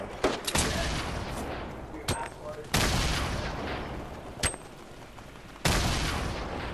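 Gunfire in a Fortnite gunfight: a handful of sharp, loud shots crack out at irregular intervals, each followed by a brief rumbling tail over a steady background of game noise.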